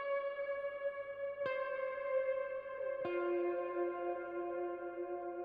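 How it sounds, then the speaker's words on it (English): Electric guitar notes swell into an ambient drone pad under huge wet reverb, three struck notes blending into one another with a long sustained wash, steady and smooth, no voices. "when you add a huge reverb with a lot of wet signal, you get that ambient drone sort of pad feel."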